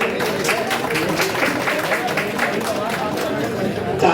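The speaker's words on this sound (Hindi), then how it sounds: "तालियों में बहुत कमी नजर आ रही है, जोरदार तालियों से अभिनंदन करें" Audience applause at a conference session, a steady wash of clapping mixed with crowd murmur and babble throughout, fairly loud and sustained.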